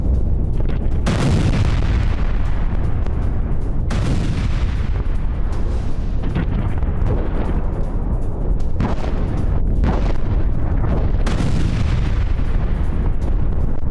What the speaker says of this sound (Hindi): दमिश्क हवा देर जोर पर इजरायल का सबसे बड़ी एयर स्ट्राइक हुई है।